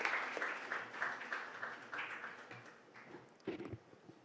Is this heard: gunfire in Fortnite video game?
no